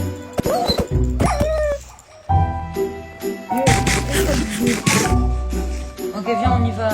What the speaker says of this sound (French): Mais pourquoi t'attaques les chiens?